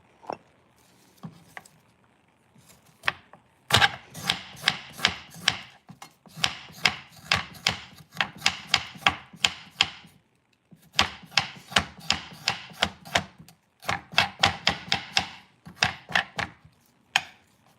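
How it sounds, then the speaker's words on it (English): A spoon scrapes the peel off a piece of ginger root in close, rhythmic bursts of quick strokes, pausing briefly between runs, with no talking. "Spoon and ginger, it takes the peel off super easy."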